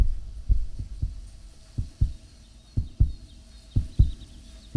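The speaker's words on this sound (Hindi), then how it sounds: "वो है उसके दिल की धड़कनें" Film soundtrack heartbeat: a steady series of deep, thudding low beats, roughly eight across the stretch, with no talk over them.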